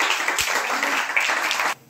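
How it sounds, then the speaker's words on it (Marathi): Applause from the audience at a retirement ceremony, steady and dense, fills the room for nearly two seconds and then cuts off abruptly at the end. "स्टाफ इथं काम करतो त्यासाठी जोरदार टाळ्या वाजवा"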